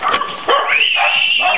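Dogs bark and yip excitedly at close range in a home welcome, with sharp repeated barks and high whining cries that overlap with a person's voice throughout.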